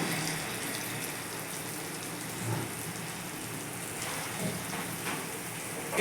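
Continuous hissing sizzle of palm-fruit bora fritters frying in hot oil in a karahi, steady and close, with a couple of faint clinks.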